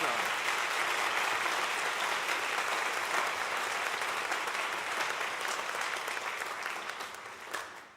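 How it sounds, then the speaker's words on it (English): An audience claps after a junior high concert band performance at a summer music camp, a steady full round of applause that gradually fades near the end, with a faint voice beneath it. "Let's give them another round of applause."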